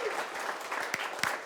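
A studio audience at a World Refugee Day panel discussion claps for a refugee forum speaker, a steady patter of applause with a few sharper, louder claps standing out near the end.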